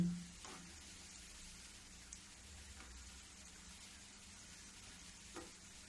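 Gur pare dough pieces frying in oil over a low gas flame, a steady soft sizzle with faint crackles and occasional small pops, continuous and even, with no talking.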